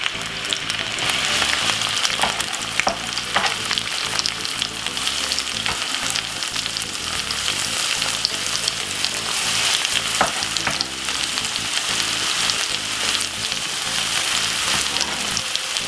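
Chopped vegetables for a saltfish fry-up frying in a pan, giving a dense, continuous crackling sizzle for about sixteen seconds with the occasional scrape and click of stirring.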